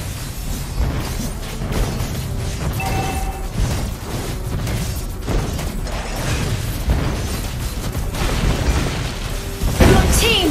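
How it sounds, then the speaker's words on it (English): A turret is destroyed in Mobile Legends, followed by explosions and heavy mechanical clanking. Booms and ratcheting clatter run dense and loud throughout, with a sharper burst near the end. "Your team destroyed a turret!"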